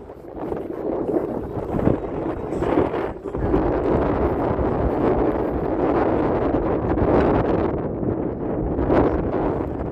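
Strong wind roars and buffets the microphone continuously, a loud, rough rumble with gusts rising and falling throughout.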